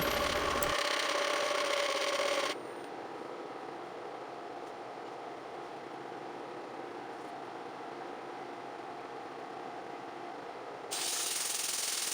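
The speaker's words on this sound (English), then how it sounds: "I decided to take the texturing tool and go the opposite direction" Continuous raspy scraping of a texturing tool cutting into a spinning black walnut crotch bowl, a steady mechanical whir with a brief louder stretch at start and end.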